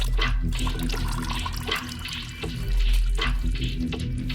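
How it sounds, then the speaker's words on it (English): Transmission fluid from a BMW E92 M3 DCT gearbox draining out, a steady, fairly loud watery splashing and trickling with an underlying low hum, continuous and without speech. "Let it slowly drain out."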